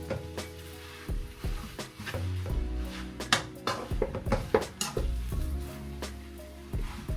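Sauteed vermicelli noodles being mixed in a hot pan, with a steady sizzle under irregular scraping and clinks of a utensil against the pan, close and moderately loud.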